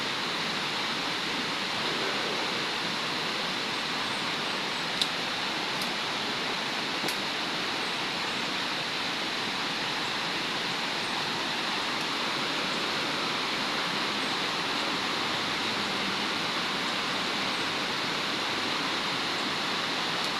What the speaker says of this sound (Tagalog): So may narinig po tayo ng agos ng tubig po guys.